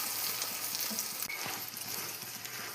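An egg and carrot side dish being stirred while it fries in a pan, giving a steady close sizzle with soft scraping strokes of the spoon in an uneven rhythm.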